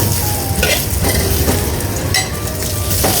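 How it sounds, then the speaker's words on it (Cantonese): Ginger stir-fried in hot oil in a wok while cooking fresh mushrooms with beef, giving a steady loud sizzle with occasional scraping stirs throughout. "爆香嚿薑佢"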